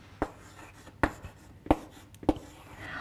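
Chalk or a pen writes on a board or paper in a maths lesson, making four sharp, evenly spaced taps and strokes about every 0.7 seconds, close and alone.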